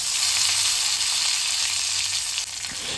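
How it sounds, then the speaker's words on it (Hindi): Mustard seeds crackle and pop in hot oil with asafoetida and curry leaves during Goan cooking, a steady loud sizzle running alone throughout with no voices. "मस्टर्ड सीड्स जो है वो अच्छे से क्रैकल होने के बाद उसमें डालेंगे थोड़ा सा हींग और बहुत सारा कड़ी पत्ता"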